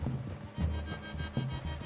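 Horses in the Red Dead Redemption 2 video game move at a steady walk, their hooves clopping rhythmically over a low, continuous outdoor ambience.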